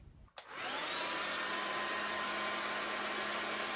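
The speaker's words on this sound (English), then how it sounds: "I feel like I've been blow drying it for quite some time." A hair dryer blows steadily and loudly on a 5x5 closure wig, switching on after a brief click and then holding a constant whooshing roar with no talking.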